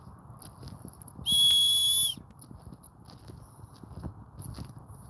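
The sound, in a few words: long held human whistle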